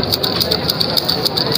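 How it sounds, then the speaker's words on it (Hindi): A tiny portable sewing machine stitching cloth gives a continuous close mechanical whir with a fast, even ticking of the needle throughout. "भाई, सिलाई मशीन है ये।"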